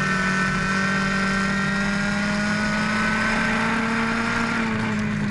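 Race cars run through lapped traffic at a New England short-track race, engines droning steadily with sustained harmonic whine, loud and continuous with no talk.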